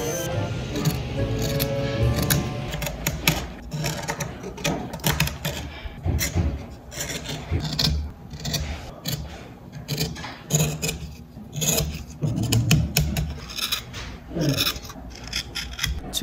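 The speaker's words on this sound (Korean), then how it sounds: "그렇게 정면까지 자르고 난 후 깎아볼게요." Knife carving and shaving a small figure, a close rasping, scraping rub repeating in irregular strokes with brief pauses, no clear talking.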